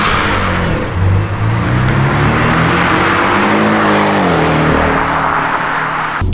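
Porsche exhaust roars loudly and continuously from close range, engine note rising and falling through revs with a dense, gritty rasp and no talking.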